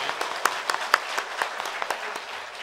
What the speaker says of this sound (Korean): 우리 부활하신 주님께 감사와 영광의 박수를 돌리겠습니다